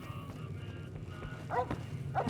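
Dog barking in the video game Fallout: New Vegas, two short barks over a low droning game background, moderately loud.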